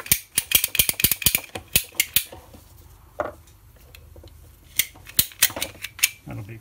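A power steering hose for a Subaru being cut in a workshop, a close run of sharp, rapid ratcheting clicks from the cutting tool that pauses briefly, then returns as another burst of clicks.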